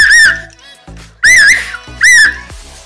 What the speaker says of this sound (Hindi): ये जो वाली सीटियां है वो काफी अच्छी क्वालिटी की बनी हुई है,